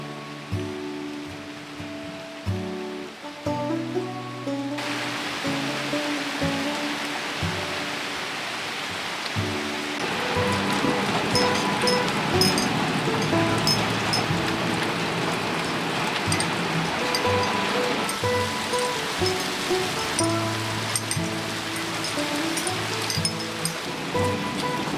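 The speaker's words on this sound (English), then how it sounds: "there was a strong thunderstorm with heavy rain" Heavy rain from a strong thunderstorm falls on trees around a bird's nest as a dense, steady hiss that swells after the first few seconds and continues for the rest of the clip, with music playing over it.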